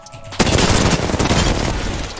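Dense, loud automatic gunfire in a squad-based shooter video game, starting abruptly and roaring continuously close up as a sustained burst.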